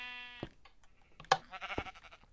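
A Minecraft sheep gives one short, clear bleat in a quiet setting, followed by faint clicks and small thumps.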